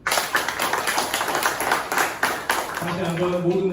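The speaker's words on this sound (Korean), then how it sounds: "다시 한번 모두 큰 박수로 환영해 주시기 바랍니다." An audience claps at a seminar on North Korean human rights law, a brisk patter of hands that stops near the end as a voice begins speaking.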